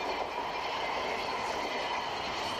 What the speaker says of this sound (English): These great trains of the world have been developed to serve some of the great mines of the world.